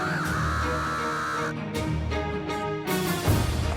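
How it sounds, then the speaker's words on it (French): Crows caw repeatedly and loudly at close range while approaching plastic decoys at a winter crow hunt, their harsh calls overlapping in quick bursts with no talking. "les corneilles sont matinales et très décidées à rejoindre les formes de plastique."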